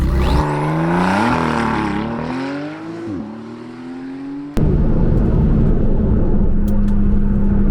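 A Porsche 991.2 Carrera S engine with a Stage 2 tune revs up and down repeatedly, rising and falling in pitch, then settles into a loud, steady roar close by.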